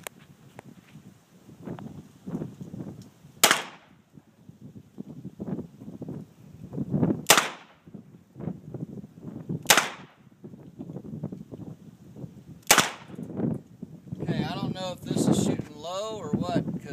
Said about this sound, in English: So we'll be shooting lead through here, and these are FMJ, so that's the difference.